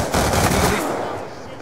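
Three-round burst weapon fire in the video game Black Ops 2: a loud, close burst of gunshots that blurs into a single rattling blast, then fades out over about a second.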